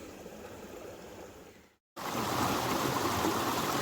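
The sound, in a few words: water flowing in a waterfall stream past a sluice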